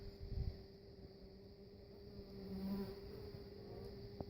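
Honey bees buzz in a faint, continuous low hum close by, with a soft knock near the start.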